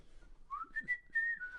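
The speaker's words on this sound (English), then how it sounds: "So you were whistling after you had your go as well?" A man whistles tunelessly after laying a word in a game of Scrabble, a thin wavering single line that rises and slides for over a second, quiet and close with no talk.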